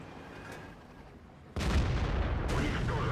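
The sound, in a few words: artillery fire in the video game World of Tanks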